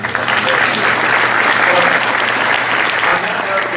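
Loud, sustained applause from a panel audience at a Disney convention fills the whole stretch, a dense steady wash of many hands clapping with no gaps.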